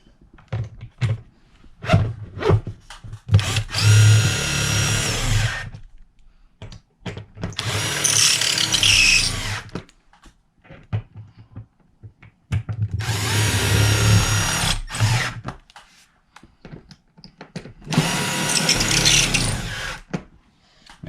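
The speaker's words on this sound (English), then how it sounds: "So now we have to actually tighten our screws, which will pull the speaker into place." A power drill driving screws to pull a Klipsch PRO-180RPW in-wall speaker into place, four loud whirring bursts of a few seconds each separated by quiet gaps and small knocks.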